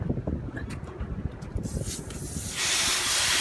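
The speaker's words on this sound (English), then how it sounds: "You take a strong hose and clean it out" A strong hose sprays water to clean out a blue crab, starting with choppy splashing and knocking, then steadying into a loud, continuous hissing spray near the end.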